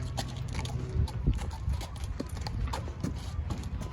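A horse being walked into its stall, hooves clip-clopping in an irregular walking rhythm of distinct thuds, close by, with faint movement noise around them.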